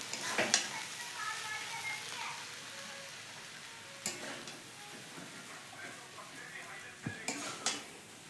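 Egg and vegetable chowmein frying in a pan, a soft steady sizzle with occasional metallic clinks and scrapes of a utensil stirring, fairly quiet and close.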